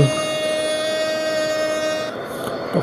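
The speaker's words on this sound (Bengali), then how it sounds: "যখন তোমরা এই হর্নটা অন করবে তখন" A sustained, loud, brassy horn of a 6600 series locomotive in Trainz Simulator blares steadily, then cuts off, leaving a brief hiss behind.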